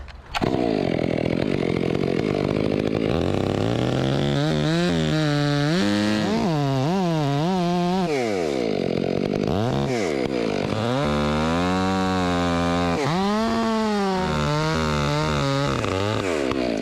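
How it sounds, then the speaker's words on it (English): Chainsaw notching a cottonwood tree, the engine loud and close throughout, revving up and down repeatedly as it bites into the wood, with no voices. "All right, I'm gonna notch this cottonwood."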